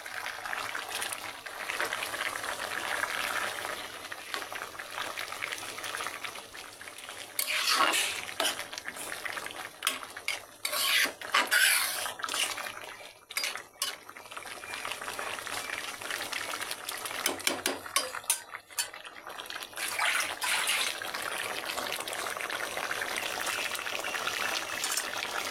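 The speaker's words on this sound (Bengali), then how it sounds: "আমার তরকারিটা এই যে ফুটে গেছে," A pot of curry boils steadily on the stove, a continuous bubbling and sizzling hiss with brief louder spurts, close by and alone with no talk.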